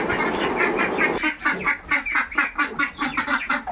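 Geese and goslings honk and call from an enclosure on a rural morning. The calls come close together in a quick, rhythmic string of short, nasal cries.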